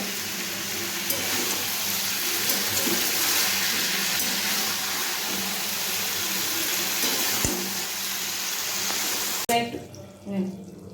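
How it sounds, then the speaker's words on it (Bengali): Water pouring steadily into a curry cooking in a pan, a continuous loud rushing splash that runs for several seconds and then stops abruptly, followed by a quieter bubbling tail. "এবার আমি এখানে একটু জল দিয়ে দেবো পরিমাণ মতো"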